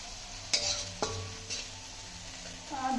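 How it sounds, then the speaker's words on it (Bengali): Spices and chili powder being sautéed in a pan, a faint sizzle under a few sharp metal clinks of a spoon stirring against the pan, roughly every half second early on. "লঙ্কার গুঁড়ো এখন সব মশলা দিয়ে ভালো করে কষিয়ে নেবো"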